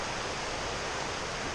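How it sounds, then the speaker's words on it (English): Forney Creek in the Great Smoky Mountains roaring with heavy mountain runoff, a dense, constant rush of water that fills the whole clip evenly without a break. "That Forney Creek's roaring right now though."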